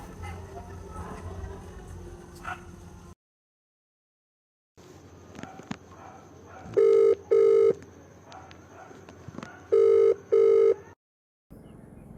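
Ringback tone on a phone call sounds as two double-ring bursts, loud and buzzy, separated by a pause, over a low background hum with a few short noises between.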